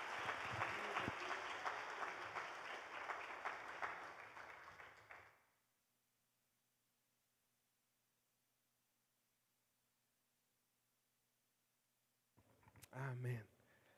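A church congregation applauds for Laurita, a dense burst of clapping that fades out into silence, followed by a short voice at the end.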